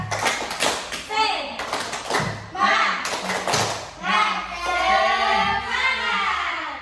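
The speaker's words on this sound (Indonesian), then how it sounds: "Oke, sekarang tepuk semangat." A group of children at an orphanage classroom session doing a rhythmic spirit clap chant, with sharp patterned hand claps in bursts interleaved with chanting voices, close and lively.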